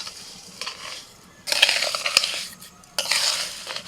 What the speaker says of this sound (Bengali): এইভাবে মিশিয়ে নিলে আস্তে আস্তে চিনিটা গলে যাবে